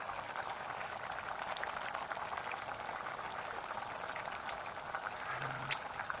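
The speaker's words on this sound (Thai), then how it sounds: "นี่ตัวนี้เดือดแล้วนะครับเข้มข้นแล้วนะครับ" A pot of sour curry with pickled bamboo shoots, shrimp paste and sugar simmers at a steady, close bubbling boil, with a faint clink near the end.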